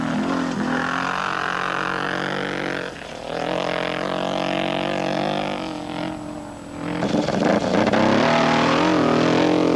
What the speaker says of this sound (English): Gilles Lallet accelerates away from the start of one of the 2 special stages